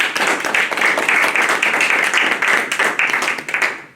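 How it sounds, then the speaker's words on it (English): A quick round of applause for students at a school recognition night, with lively, close handclaps from a modest crowd in a fairly regular patter, then tapering off at the end. "So we'll give you a quick round of applause"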